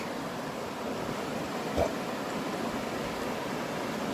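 Steady rushing creek water flows without a break, a broad constant wash heard fairly close with no voices.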